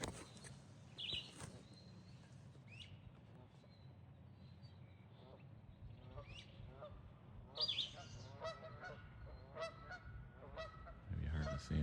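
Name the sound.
wild birds calling in a field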